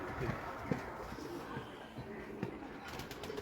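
Pigeons kept by a pigeon fancier coo softly in low, repeated calls, faint and somewhat distant, mixed with scattered rustling and background voices.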